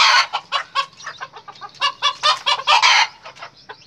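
A red rooster of jungle-fowl and brugo type crows and clucks loudly and close by, a string of sharp, rhythmic calls that ends in a sustained crow, with no talk.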